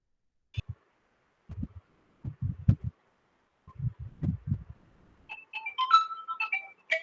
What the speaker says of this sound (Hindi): 1 मिनट रुको, फोन आ रहा है।